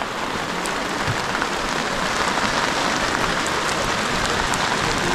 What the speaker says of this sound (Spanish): Está granizando bien, ¿eh?